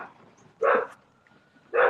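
Two sharp, fairly close dog barks about a second apart ring out in a quiet setting where young puppies are kept.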